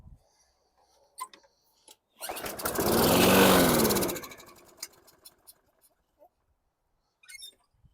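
A cold lawn mower engine with the choke closed is pull-started once without priming: a few faint clicks, then a loud roaring burst lasting about two seconds that sputters out, followed by scattered ticks.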